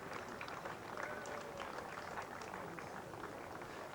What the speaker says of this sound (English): The crowd, relieved applause almost.